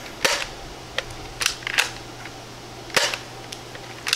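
A DartZone Max Outlaw foam dart blaster fires several times, giving sharp snapping pops with mechanical clacks from priming between shots, spaced irregularly over a steady low hum.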